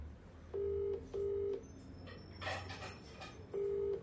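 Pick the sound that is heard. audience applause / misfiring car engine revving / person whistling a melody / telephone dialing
telephone dialing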